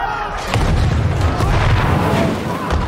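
Tank gun firing in a World War I war film: a heavy, booming blast with rumbling low-end and a rolling tail, loud and close, filling a few seconds with continuous explosive thunder.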